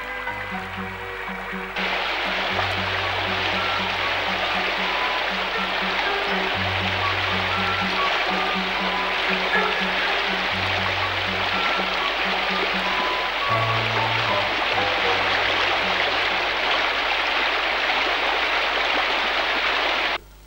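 Mountain streams in North Ossetia pouring down a sheer cliff face, a steady, dense rush of falling water holding constant and fairly loud throughout, with no voices over it.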